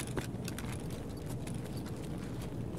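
Rhythmic footsteps in Escape from Tarkov on the Lighthouse map, a steady run of hard clopping treads over a constant low rumble of game ambience, with no talk.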